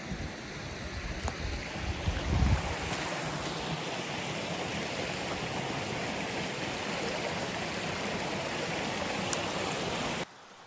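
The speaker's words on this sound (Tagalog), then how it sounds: "Ang ganda ng tubig." Water runs steadily along an outdoor stream in rural farmland, a continuous broadband rush with a brief louder splash near the start, then an even flow until it cuts off abruptly near the end.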